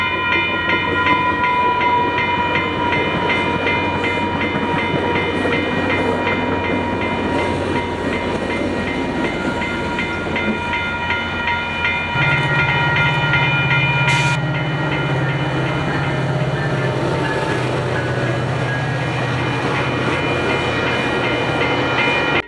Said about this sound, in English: Our next trains would be the 8 a.m. FrontRunners, with the southbound one having 102 leading and the northbound one having 10 leading.